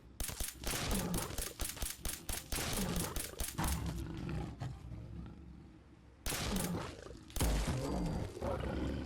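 Rapid semi-automatic rifle shots fired at a Deathclaw in Fallout 4, a loud, fast string of sharp cracks that pauses and then resumes with a few more bursts, heard alone.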